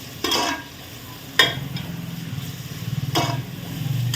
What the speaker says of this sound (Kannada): ಚೆನ್ನಾಗಿ ಈರುಳ್ಳಿ ಫ್ರೈ ಆಗ್ತಾಯಿದೆ